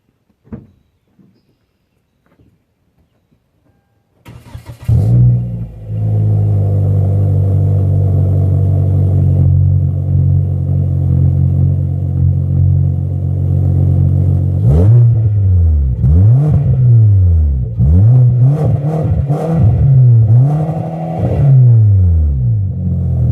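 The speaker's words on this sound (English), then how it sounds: "I took the stock one off and put on an eBay one" A car engine fitted with a cheap aftermarket eBay muffler in place of the stock one starts after a few quiet seconds, idles with a loud steady rumble, then is revved repeatedly in rising and falling bursts, close up and alone.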